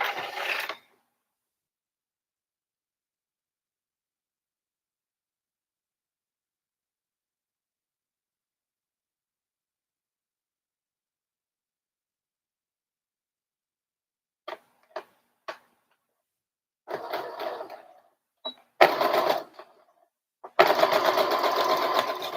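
A sewing machine stitches darts on a little girl's dress in short bursts, with several quick stitching runs and brief clicks after a long silence, ending in a longer, louder run.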